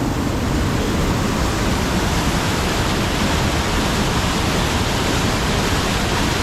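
Palaruvi waterfall roars as a loud, dense, unbroken wash of falling water, close and constant throughout.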